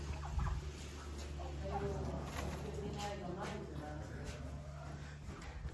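Faint clucking and calls from a flock of chickens in the distance at a farm in Germany, set against steady low background hum.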